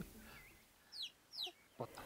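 A chicken clucks outdoors in a few short, faint bursts, fairly distant, with little else around.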